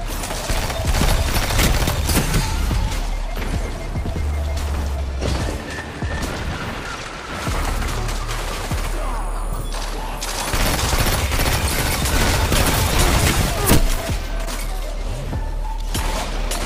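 Dense, continuous gunfire from the video game Destiny 2, loud rapid shots and crashes layered over game noise for the whole stretch, with a brief lull near the middle.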